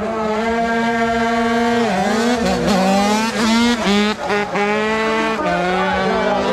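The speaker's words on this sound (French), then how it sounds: "au bout des 20 mètres, tu lances la roue sans reposer" Motorcycle accelerating hard to launch a wheelie, close and loud, its engine note climbing through repeated revving rises and gear changes over several seconds, with a little background voice.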